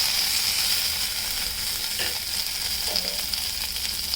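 Ajwain leaves frying in a pan give a steady, close hiss with a couple of faint stirring clinks and no voices.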